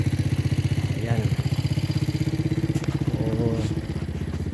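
An irrigation pump engine thumps steadily in a pump house, a loud close chugging idle with a fast even pulse throughout, and a voice briefly speaks over it.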